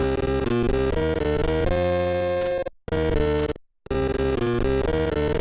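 Dense, droning 1989 console game music plays at a slowed, lowered pitch, cutting out twice briefly before resuming.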